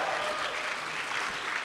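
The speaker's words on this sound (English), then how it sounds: "I know there's clapping at home" Audience applause at a live original-music concert in a town hall, a steady wash of clapping from a crowd, moderately loud and continuous with no voices over it.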